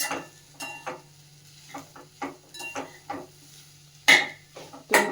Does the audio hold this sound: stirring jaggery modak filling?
yes